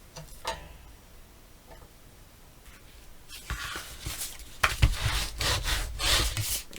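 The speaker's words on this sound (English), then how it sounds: "Burnish real well." A paper album cover is burnished by hand, a dry scraping rub that starts as sparse ticks and scuffs and then turns into faster, louder back-and-forth strokes toward the end.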